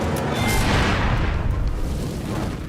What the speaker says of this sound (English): This flash fire isn't just igniting the flour in the room, it's burning up all the oxygen, too.